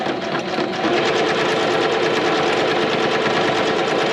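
A sewing machine whirs rapidly and steadily, its fast mechanical rattle speeding up slightly at the start, then holding a constant buzz with no talking.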